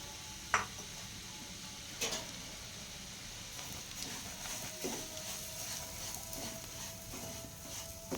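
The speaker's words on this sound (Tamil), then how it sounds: "அடுப்பை மீடியம் ஃப்ளேமில் வச்சு ரவா ரொம்ப சவந்துடாமல் வறுத்து எடுத்துக்கலாம்" Semolina (rava) roasting in ghee over a medium flame for pineapple kesari, giving a faint, steady low sizzle with a few soft scraping stirs and light clinks of a utensil against the pan.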